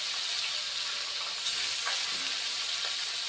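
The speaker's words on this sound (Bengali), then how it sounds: "আমার দ্বিতীয়বারের মাছ ভাজা হয়ে গেল" Fresh river bhagna fish sizzles in hot oil, a steady bright hiss with soft crackles and an occasional stir, close and unbroken, with no talking.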